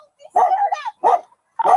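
A dog barks several times in quick, loud, close bursts with sharp yipping edges, separated by short silences.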